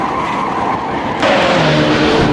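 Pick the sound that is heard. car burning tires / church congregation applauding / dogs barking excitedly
car burning tires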